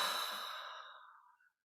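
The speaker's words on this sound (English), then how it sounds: "taking 3 deep cleansing breaths, breathing in the aliveness of this moment" A single deep, slow breath out during a seated meditation, a soft breathy rush that fades over about a second and a half before silence.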